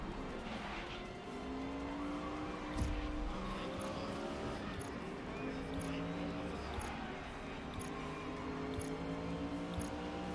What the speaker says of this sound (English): And the engine sounds still sound a little quiet.